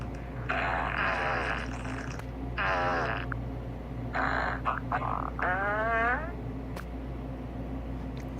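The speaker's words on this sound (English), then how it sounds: "that's a loud fart" Loud farts ring out in several drawn-out, buzzy bursts of varying pitch over a steady low hum, one ending in a wavering, squeaky tail.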